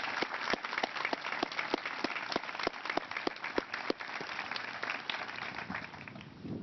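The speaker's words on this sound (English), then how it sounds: "join me in a round of applause for them" An audience at a statue unveiling applauds with scattered claps, a few sharp individual hits over a steady patter that gradually thins and fades.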